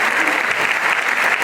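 Dense, loud applause from the audience at a Hindi comic poetry reading, continuous and even with no break across the short stretch.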